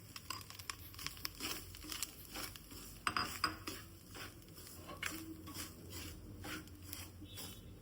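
Rava roasting in a pan with grated coconut gives soft, steady scraping and clinking as a spoon stirs it. The sound is quiet and close, with no talk.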